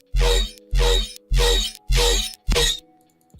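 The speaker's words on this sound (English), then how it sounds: "So the VFrag would sound like this." Five short, punchy synthesized bursts mangled by a VFrag effect plugin, four evenly spaced hits and a fifth sharper one, harsh and broadband, with silence between them.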